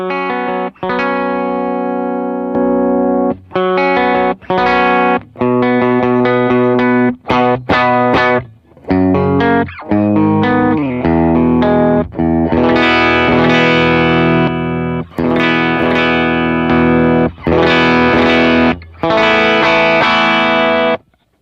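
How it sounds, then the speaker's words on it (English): An electric guitar runs through a Benson Germanium boost pedal, loud and thick with a compressed, textured edge, strummed chords and picked phrases broken by short pauses, with no talking. "that's the Benson Germanium boost"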